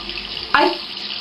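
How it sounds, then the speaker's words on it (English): Water from a kitchen faucet runs steadily into a sink with the stopper in, a continuous close hiss with a brief louder splash partway through, no talking. "my faucets were on like that"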